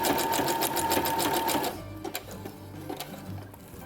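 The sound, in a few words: sewing machine stitching a pocket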